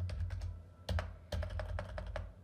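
Typing on a computer keyboard while entering a Kubernetes liveness probe setting, a quick run of close, crisp key clicks in uneven bursts with brief pauses, heard alone with no talking.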